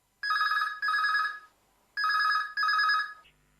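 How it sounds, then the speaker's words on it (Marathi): A telephone rings on a radio call-in show, two double bursts of bright electronic trilling separated by a short gap, clear and close, followed by a faint click as the line connects. "सूरसंवाद या कार्यक्रमासाठीच आपला फोन लागलेला आहे"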